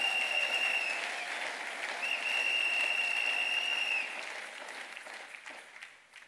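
Church congregation applauding during a Sunday service, a sustained wash of clapping with a thin whistle over it, fading gradually toward the end.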